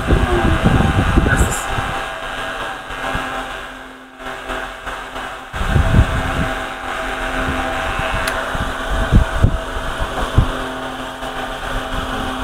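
An electric hair clipper hums steadily while cutting hair during a haircut, its motor buzz rising and falling as it moves, with people talking throughout.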